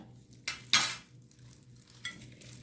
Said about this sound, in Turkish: Önce sıvıları güzelce karıştırıyorum.